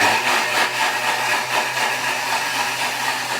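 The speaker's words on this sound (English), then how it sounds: "pop the lid on. And we're going to give that a bit of a blitz" A loud, continuous whirring kitchen blender motor grinds steadily with a slightly pulsing, churning texture as it blitzes ingredients, close by and with no other sounds.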